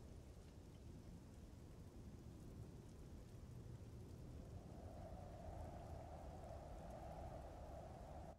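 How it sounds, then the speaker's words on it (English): Steady rain and rolling thunder fill a stormy scene in the military video game Arma 3, a continuous wash of downpour with a low rumble building midway, no voices. "Almost shot or hit by lightning"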